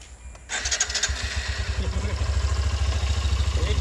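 A motorcycle engine cranks and catches, then settles into a steady, close, throbbing idle.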